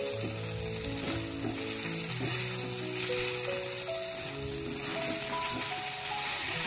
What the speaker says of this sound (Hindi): पनीर फ्राई करने के लिए मैंने यहाँ 1 टीस्पून ऑयल और 1 चम्मच बटर दिया है